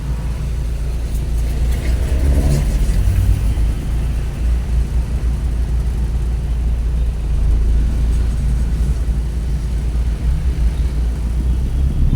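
Street traffic hums and rumbles steadily, with loud low engine noise from passing vehicles and a brief rising whine early on.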